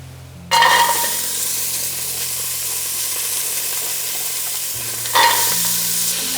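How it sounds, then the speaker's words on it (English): Chopped carrots and celery sizzle steadily in a hot, oil-free pan for vegan soup, a close, constant frying hiss with two bursts of stirring, no talk over it. "So I'm just gonna get my carrots and celery started off in the pan."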